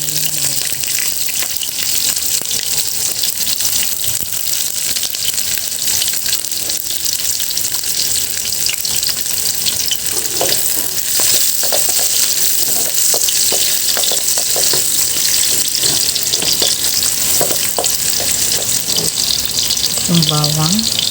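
Onions frying in a hot pan in an outdoor kitchen while pancit guisado is prepared, a loud, dense, continuous sizzle with scattered crackles and a few clinks of a utensil near the end.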